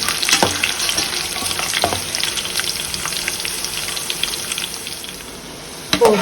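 Tempering of mustard seeds, onions, curry leaves and dried red chillies fries in plenty of oil for ginger pickle, a steady close sizzle with occasional stirring clicks and a sharp clatter at the end.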